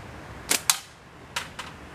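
A slingshot fires at a tin can, giving two quick pairs of sharp, light snaps and ticks close by, with no talking.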